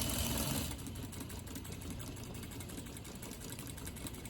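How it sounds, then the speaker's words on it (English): A sewing machine stitches a quarter-inch shawl collar seam toward the shoulder and neckline corner, a close, steady rapid whir that starts a bit louder and then settles, with no talking. "So we're gonna sew all the way to this point here where the intersection is of the shoulder and the neckline."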